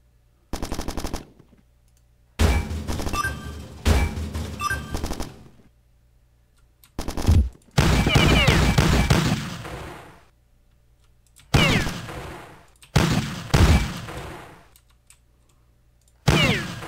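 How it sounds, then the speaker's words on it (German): Bursts of rapid gunfire from the video game Bad Bots come in several separate volleys with silent gaps between them, loud and close. "Auf wen wird da geschossen?"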